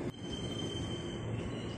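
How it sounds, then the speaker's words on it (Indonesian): A KRL commuter electric train rolls into a station track at Depok, with loud steady rumble of wheels on rail and high metallic wheel squeal running throughout. "Kita lihat juga nih KRL-nya masuk ke jalur 2."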